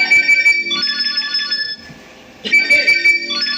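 A phone ringtone for an incoming call, loud and close, a bright repeating electronic melody in two bursts separated by a short quieter gap.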